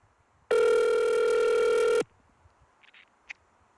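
A telephone rings once in a single loud, sustained electronic burst of about a second and a half, followed by faint background clicks and small noises.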